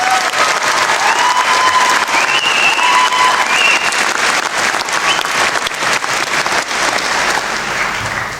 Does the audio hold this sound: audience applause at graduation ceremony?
yes